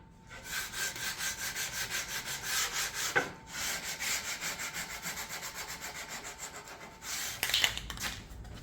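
Sandpaper rubs back and forth over the softened edges of a wooden floating frame, a close, steady rhythmic scratching in regular strokes with a couple of short pauses, no voices.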